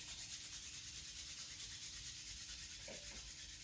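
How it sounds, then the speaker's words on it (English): Palms rubbing together during a chanting meditation, a soft steady friction hiss held close and quiet throughout, with a faint brief touch near the end. "And then rubbing the hands together."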